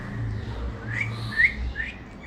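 Pet bird named Hero gives a few short, rising whistles, with one sharper peak in the middle, close and fairly clear over a low background hum.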